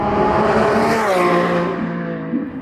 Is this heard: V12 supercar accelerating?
yes